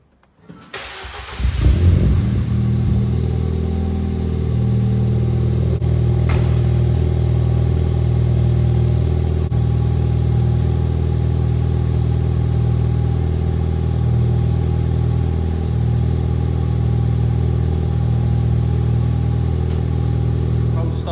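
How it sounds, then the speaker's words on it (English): A car engine cranks briefly and catches on a cold start, then settles into a steady, loud, rumbling idle that holds for about twenty seconds with no talking. "I thought I'd do a little cheeky cold start, see what it sounds like in here"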